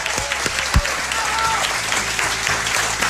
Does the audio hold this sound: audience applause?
yes